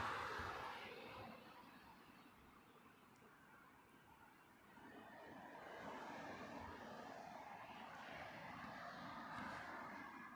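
An Aer Lingus Airbus A320neo arriving from Cork approaches runway 27 left at Heathrow. The jet engines make a distant, continuous broadband roar that swells slightly over ten seconds, with no talk.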